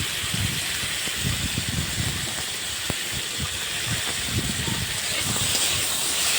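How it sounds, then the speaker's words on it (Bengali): Chopped tomatoes frying in a wok with a pinch of salt, a steady close hiss and crackle running unbroken throughout, with soft low knocks underneath. "এবার একটু ভাজা ভাজা করে নিচ্ছি"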